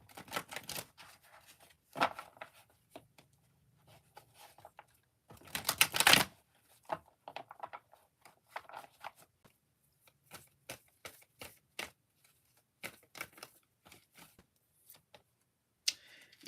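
Angel cards are shuffled in soft, irregular bursts of quick riffling clicks, with one louder flurry partway through and quiet pauses between.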